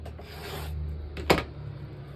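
Rotary cutter slicing off the uneven edges of stacked quilt fabric strips for a Christmas nine-patch quilt, a soft scraping rub followed by one brief sharp crunch of the blade, close and quiet.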